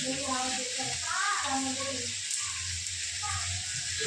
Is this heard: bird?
no